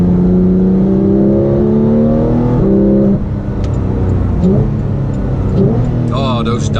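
A 2017 Porsche 911 GT3 engine revs hard and then blips down through several quick downshifts on a wet Autobahn. The engine is loud and close throughout, heard from inside the car.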